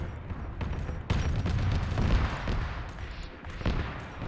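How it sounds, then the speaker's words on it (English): Bolt pistol gunfire in a Warhammer video game, with repeated sharp shots and booms scattered over a constant battle din, some strong reports near 1.1 s and 2 s. "Ezri shot him with the bolt pistol"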